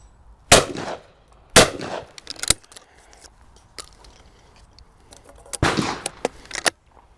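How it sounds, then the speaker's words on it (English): Shotgun fired at clay targets on a shooting range: three sharp, loud reports near the start, one around 1.5 seconds after the first and another about four seconds later, each with a short echo and clattering tail. "So now I'm gonna shoot my favourite gun, which is my personal gun."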